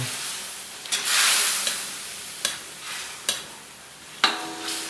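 Adobo with vinegar bubbling at a full boil in a pan, a steady broadband hiss with a few sharp clinks of a utensil against the pan at irregular intervals, no talking.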